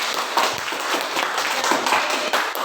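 Applause in a classroom during a lesson: a short burst of scattered hand clapping from a group, fairly loud and steady throughout, with no speech over it.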